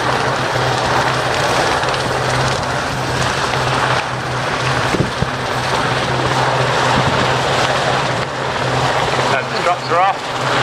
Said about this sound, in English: Helicopter free to leave the danger area, leave the landing site.